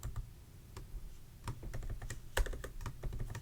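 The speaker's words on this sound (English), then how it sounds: "I'm going to type down if name" Code being typed on a computer keyboard, with steady quiet clicking keystrokes in an irregular rhythm, close by and faint, with no talking.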